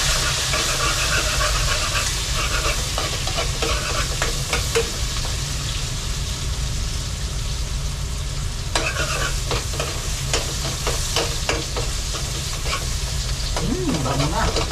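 Onion, garlic and ginger being stirred as they fry for chicken adobo, a steady close sizzle with scraping spoon strokes throughout and light clinks near the end, no voices.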